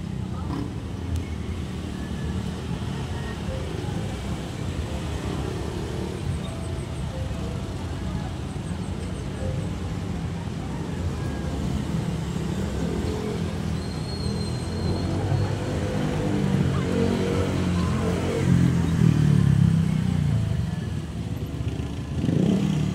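Road traffic in Pakpakan rumbles on steadily, with cars and motorcycles passing in a continuous low drone that swells toward the end, and faint voices sit underneath.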